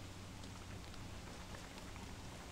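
Rain falling in the video game Don't Starve Together: a steady, even hiss of downpour with no break and no talking over it.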